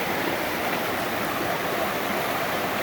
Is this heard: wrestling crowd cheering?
no